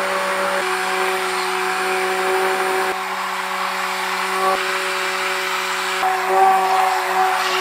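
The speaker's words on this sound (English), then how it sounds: "From now, I'll start blending the oil." A blender runs continuously at high speed blending oil for a homemade liquid soap, a loud steady whirring drone with slight shifts in pitch, no voices.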